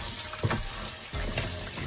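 Running tap water pours steadily with splashes and soft handling noises as oxtail is rinsed beneath it.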